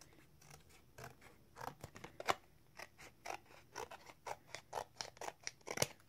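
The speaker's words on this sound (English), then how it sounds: "In this box, you need to cut all the pieces of the paper to fit in the box." Scissors snip repeatedly through pieces of paper cut from a cereal box for a handmade gift box, a close run of quick crisp cuts with short pauses, no voices.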